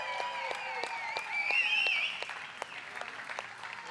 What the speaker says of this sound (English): A huge round of applause, please, for your gaffer, Davide Salvadore.